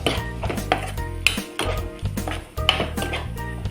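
A metal spoon stirs onion masala curry in a pan, making repeated scraping clinks and knocks against the metal in an irregular rhythm, close and fairly clear.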